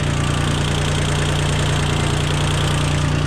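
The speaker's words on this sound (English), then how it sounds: "A little tiny tractor made by Mitsubishi." Small Mitsubishi-built International 234 compact tractor engine idling steadily, a continuous low rumble with a constant mid-pitched hum and faint rhythmic knock, close and unchanging throughout.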